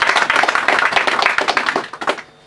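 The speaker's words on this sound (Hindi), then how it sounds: "ताली बजा के धन्यवाद" Hands clap together in a quick, uneven burst from a church congregation giving thanks, the claps close and sharp, then thinning out and stopping near the end.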